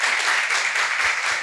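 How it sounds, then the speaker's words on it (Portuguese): Audience at a community talk on geek culture, anime and manga clapping in a steady, dense burst throughout, loud and close. "dando uma salva de palmas para eles, que eles merecem"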